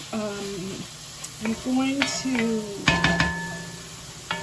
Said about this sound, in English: saute this over medium-high heat until the onions begin to soften